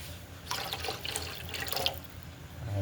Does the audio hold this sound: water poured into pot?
yes